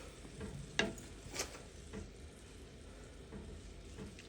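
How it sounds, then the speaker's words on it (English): Sausage and black-eyed peas are stirred in a skillet: a quiet, close scrape and clatter of a utensil with one sharper click, over a faint background sizzle and no talk. "let's get all this stirred up together."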